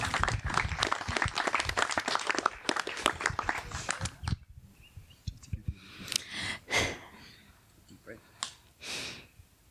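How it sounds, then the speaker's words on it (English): Wedding guests at a ceremony break into a burst of applause with voices mixed in, dense and lively for about four seconds before it thins out to scattered, quieter sounds. "Let's give her a round of applause."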